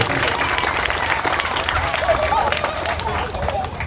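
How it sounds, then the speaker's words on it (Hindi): A village crowd at a memorial gathering gives loud, steady applause for the event organiser, dense clapping with background chatter throughout. "संयोजक जी हैं, उनके लिए एक बार जोरदार ताली होनी चाहिए"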